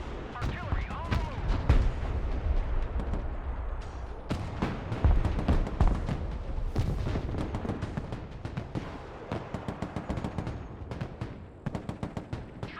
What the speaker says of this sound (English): Artillery on the move.